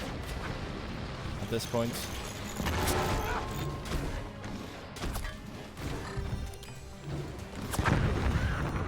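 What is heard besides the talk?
weapon shots firing and hitting in the video game Forts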